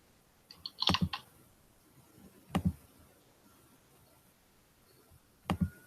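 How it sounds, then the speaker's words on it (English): Bursts of keyboard typing, three short clusters of clicks spaced a couple of seconds apart, faint and close against a quiet background hiss. "I can hear him typing, but he's not speaking."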